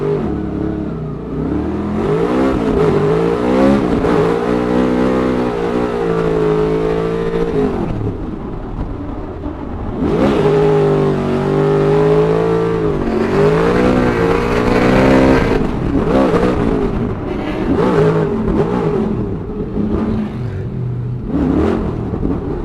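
Ford Mustang RTR drift car at a Formula Drift practice in Atlanta, heard from inside: a loud engine that revs up and down in long sweeps, with a lull in the middle before the next hard run and a burst of revving near the end.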